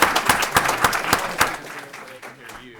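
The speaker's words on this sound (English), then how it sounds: "Please give him a round of applause." A council meeting audience gives a round of applause, a dense close burst of clapping that tapers off over a few seconds as voices murmur underneath.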